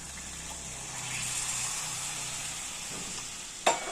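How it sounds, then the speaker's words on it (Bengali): Thickened saffron milk is poured onto grated carrots frying in a pan for carrot halwa, giving a soft, steady sizzle that swells and then eases, ending with a sharp clink. "এবার আমরা আগে থেকে ঘন করে রাখা দুধ এর মধ্যে দিয়ে দেবো।"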